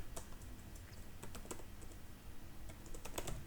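Rapid keystrokes on a computer keyboard clatter close and quiet as code is typed into a Laravel 8 project, a continuous run of soft clicks with no voice.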